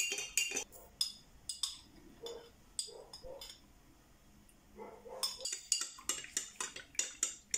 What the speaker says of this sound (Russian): И добавляю в баночку и хорошенько перемешиваю.